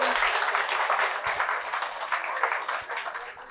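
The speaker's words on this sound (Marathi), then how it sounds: "दोघांसाठी जोरात टाळ्या होता" Applause from an audience at a physics experiment demonstration, a brief burst of many hands clapping that fades toward the end, fairly close and moderately loud, with no speech.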